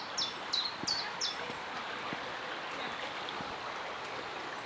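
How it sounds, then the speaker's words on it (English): A quiet river in English countryside along the River Teign flows with a soft, steady rush, while a few short, high bird chirps come in the first second and a half, then only the water continues. "Just the sound of the river and nature itself."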